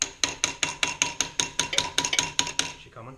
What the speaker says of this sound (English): I'm using a 3/8 extension here with a ratchet as a hammer